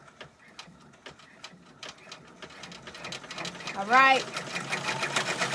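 An embroidery sewing machine stitching with metallic thread, running in rapid rhythmic bursts of needle clatter that build and grow louder, with a short whirring sweep partway through and a person speaking briefly.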